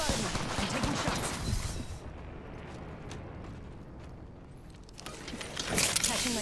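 Enemy gunfire crackles in the Apex Legends video game, a loud dense burst at the start that fades to quieter ambience before shots return near the end, with voices over it.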